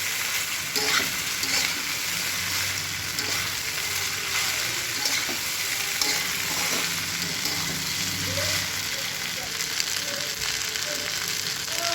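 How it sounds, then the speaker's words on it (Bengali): Pasta and vegetables are stirred in a hot pan, giving a steady sizzle under repeated scraping and tossing, close up and continuous, with no talking. "এবার আমি ভালো করে নেড়ে করে মিক্স করে নেবো, পাস্তার সাথে সবজিটাকে ভালো করে মিশিয়ে নেবো।"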